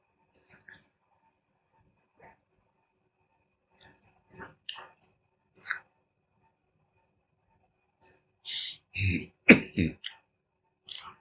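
A person coughs and clears their throat in scattered small bursts, ending with a louder, harsher cluster of coughs close by.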